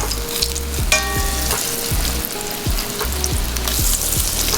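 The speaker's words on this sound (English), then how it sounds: "We're gonna place those eggplants in until they're lightly brown on both sides." Eggplant slices fry steadily in hot oil in a pan, a continuous close sizzle with occasional crackles and some scraping and tonal clinks from handling, no talking.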